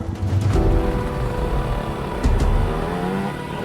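A stock 2023 Yamaha YZ125 two-stroke motocross bike on a track holds a loud, steady engine drone with slight pitch shifts and a brief rise partway through, heard alone without talk.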